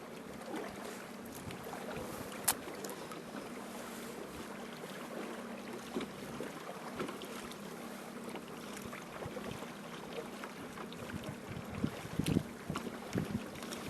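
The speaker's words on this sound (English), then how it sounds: "the wind is just crushing us, probably 20, 25 mile an hour winds in gusts" Strong wind gusting at about 20 to 25 mph at Lake George in April, roaring and buffeting the microphone continuously, with a few sharp knocks near the end and no voices.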